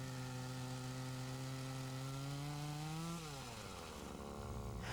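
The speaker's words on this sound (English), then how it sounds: "he lines up and makes the face cut" A Husqvarna chainsaw makes the face cut on a tree. The engine holds a loud, steady high whine, then the pitch drops as the chain bites into the wood near the end.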